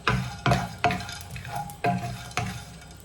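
Pumpkin seeds roast in a hot pan and get stirred: a series of about six scraping stirs at an uneven pace over a faint sizzle, close and fairly quiet.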